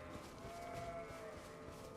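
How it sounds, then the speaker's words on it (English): A goat or sheep in Elden Ring gives a soft, drawn-out bleat. It is faint and low, like a lowing call, set against steady game ambience. "Hello, goats."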